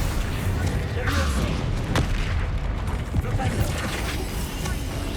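Confringo and Bombarda spells chain into explosions in Hogwarts Legacy, a dense continuous barrage of booms and crackling blasts layered with game effects and rumbling low end throughout.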